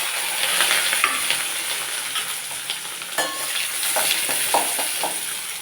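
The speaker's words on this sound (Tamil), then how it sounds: "இனி கறிவேப்பிலை, ஒரு 10 சின்ன வெங்காயம், ஒரு பச்சை மிளகா குட்டியாக கட் பண்ணினது, இதையும் போட்டு நல்லா வதக்கி வைப்பேன்" Curry leaves, small shallots and chopped green chili sauté in hot oil for a crab stir-fry in a home kitchen, giving a steady close sizzle broken by scraping spoon strokes and light clinks against the pan.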